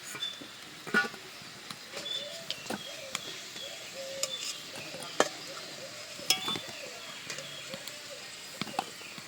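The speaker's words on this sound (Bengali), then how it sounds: "আলুগুলো খুব ভালো করে ভাজা হয়ে গেছে। এবার আলুগুলো তুলে নিচ্ছি।" Fried potatoes are lifted out of hot oil in a pan, with soft scattered clinks and scrapes of a utensil over a faint continuous sizzle, close and fairly quiet.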